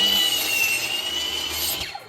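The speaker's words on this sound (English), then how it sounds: "We're going to head back to the saw with this and take just a smidge off." A saw trims a small amount off a heavy timber truss piece, a loud, steady machine whine that runs throughout and then winds down at the end, with no talk.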